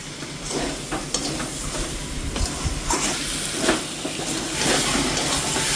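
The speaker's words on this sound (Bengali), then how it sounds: "টমেটোটা মশলায় দিয়ে দেবো, নেড়ে নিচ্ছি।" Tomato stirred into frying spice masala for a chicken dish, loud close sizzling with repeated scraping and clattering stirs in an uneven rhythm, no voices.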